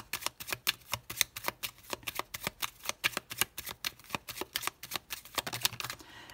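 Lenormand cards being shuffled in a rapid, steady run of crisp riffling flicks, close and fairly loud, with no talking.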